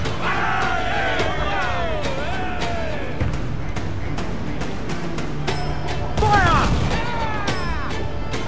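Naval battle in Assassin's Creed IV Black Flag: repeated cannon blasts from a ship fire in sharp bursts amid crashing impacts, shouting crew and a busy battle soundscape, with a louder cluster of shots near the end.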